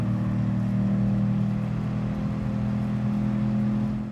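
A Corvette race car engine revs hard and continuously in a racing video game at Brands Hatch, a loud, steady droning roar with no talk over it.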